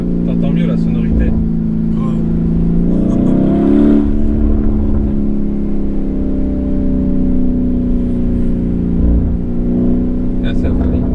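A Lamborghini Urus engine revs and drones steadily through an open car window, its tone rising sharply around the middle before settling into a sustained cruise, with faint cicadas outside and occasional voices talking over it.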